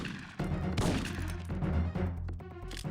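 Gunfire in the PS1 game Syphon Filter 3, a whole magazine emptied in a dense continuous volley over a game music bed, loud and close, with no pause for nearly three seconds.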